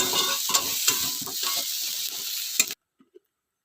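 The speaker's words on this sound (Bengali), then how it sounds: "সয়াবিন একটু ভাজা ভাজা হয়ে গেছে, আমি গ্যাস কমিয়ে দিলাম" Soybean chunks sizzle in a hot pan while a spoon stirs and scrapes through them in a few rhythmic strokes, close and steady, before the sound cuts off abruptly.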